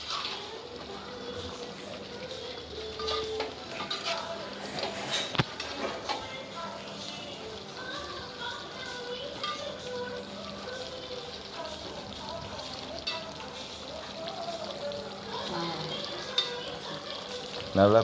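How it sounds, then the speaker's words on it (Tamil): Chicken kuzhambu, a South Indian curry, bubbling and simmering in a pot, with soft steady bubbling and sizzling close up, and a voice talking now and then. "நல்லா கொதிக்க ஆரம்பிச்சிருச்சு."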